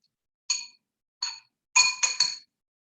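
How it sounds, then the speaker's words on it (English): A whisk clinks against a bowl in five bright, ringing taps, two spaced apart and then three in quick succession, close and clear in otherwise quiet surroundings. "I'm going to use the whisk."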